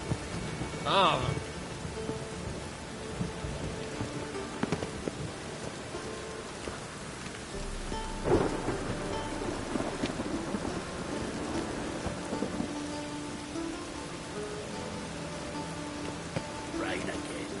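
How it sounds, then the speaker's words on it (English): Steady rain pours throughout in The Witcher 3 with rumbles of thunder rolling in, including a louder crack near the middle, while brief vocal grunts surface over the storm. "Rain again."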